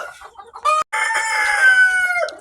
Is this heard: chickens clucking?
yes